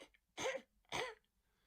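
A man clears his throat twice in quick succession, two short, rough, close bursts separated by a brief pause, otherwise quiet and without speech.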